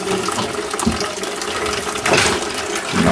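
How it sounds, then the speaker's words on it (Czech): A plate is scrubbed and rinsed with seawater, giving a steady close splashing and sloshing with a few brief louder gushes. "mořskou vodou se to musí takhle umýt"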